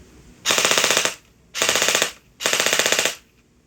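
An MP5 gel blaster fires on full auto in three rapid bursts, each about half a second long, loud and close, with a strong blowback rattle and short pauses between bursts.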